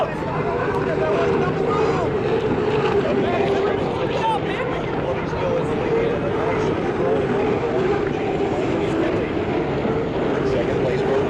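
A loud, continuous engine roar drones throughout as hydroplane racing boats pass nearby during a Columbia Cup heat race, with a steady, buzzing propeller-like whine that never lets up.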